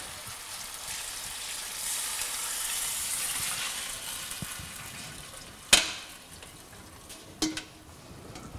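Vegetable fish broth poured and strained in a home kitchen, a steady wet hissing pour that fades, then two sharp clanks of a pot or utensil near the end.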